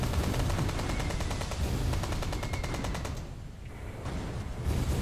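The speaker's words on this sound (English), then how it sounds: "Okay, my guns are opening up." Warship anti-aircraft guns firing in the naval video game Ultimate Admiral: Dreadnoughts: dense, rapid rattling bursts of automatic gunfire with booming reports, loud and continuous before briefly thinning, then resuming.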